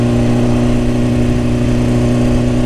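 BMW S1000RR sport motorcycle engine holding a loud, steady drone at constant pitch, close and continuous with no speech over it.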